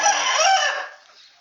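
A rooster crows loudly and close by on a small farm of about a hundred desi chickens, the call rising and then trailing off with no talking.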